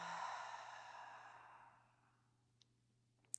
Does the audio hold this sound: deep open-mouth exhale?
yes